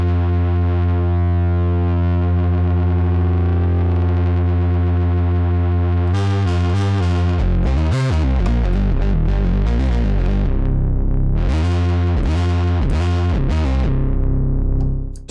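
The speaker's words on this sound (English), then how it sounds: "detune your second and third oscillator for more fatness, but on the Model D especially" A Moog Model D analog synth bass with detuned second and third oscillators plays alone, starting with a long, thick, beating sustained tone, then a loud, punchy, rhythmic bass line with filter sweeps.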